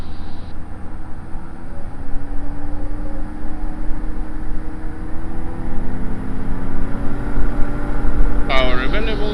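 The engine of a Diamond DA50 RG light aircraft runs up to full power for takeoff, a loud droning hum whose pitch climbs steadily. A brief high whine or beep cuts in near the end.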